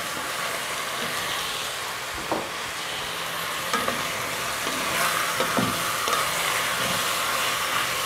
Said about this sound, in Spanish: las voy a sofreír por unos 10 minutos con toda la cebolla y el chile